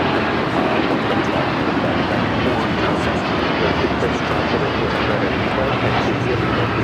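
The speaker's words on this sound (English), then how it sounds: "This is United Airlines Flight 32 taking off to Tokyo, Narita, on the 787-9 Dreamliner." A United Airlines Boeing 787-9 Dreamliner taking off from Los Angeles for Tokyo Narita produces a loud, sustained engine roar that holds steady throughout, with voices faintly mixed into the noise.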